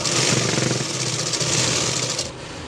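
An electric sewing machine runs fast and continuously, stitching the edge of a saree-fabric jacket lining. The buzz is loud and close, then stops abruptly near the end.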